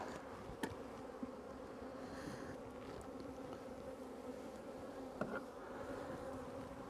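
Honeybees being installed into a hive, agitated after being shut in all morning: a dense, continuous buzzing swarm hum, steady and moderately close, with a few faint knocks.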